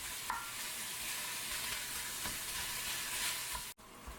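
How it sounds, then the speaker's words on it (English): Raw ground bison browns in a pan with onion and garlic, a constant close sizzle with faint scraping as the meat is broken up, cut off briefly near the end, no talk. "we're going to add our bison. We're going to break this up really well."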